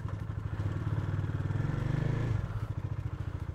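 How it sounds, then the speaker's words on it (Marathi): A heavily loaded motorbike sets off at the start of a long touring ride, its engine running close and loud with a steady pulsing rumble that rises briefly and then settles. "पहिल्यांदा एवढी हेवीली लोडेड बाईक चालवतो आहे मी"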